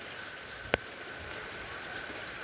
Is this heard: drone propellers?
no